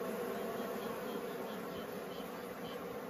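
A dense swarm of bees buzzing and fighting at a wooden bee trap box baited with old turf, a steady close hum with no pauses.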